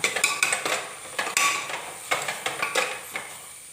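Masala with turmeric and garam masala being sautéed in a pan for an egg curry, heard as a series of close, sharp clinks and taps of a spoon against the pan in an uneven rhythm, with no talking.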